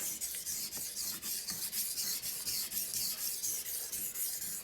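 A knife blade rasps back and forth across a whetstone in steady, even strokes, close and fairly loud, with no talking.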